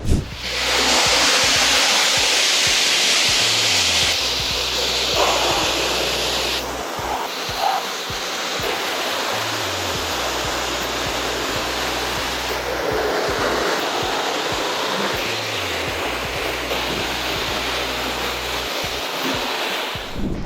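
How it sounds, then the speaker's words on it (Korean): A pressure water spray rinses snow foam off a car, a loud continuous hissing rush close to the microphone that shifts in intensity as the jet moves across the body panels. "지금 헹굼 작업을 시작하도록 하겠습니다"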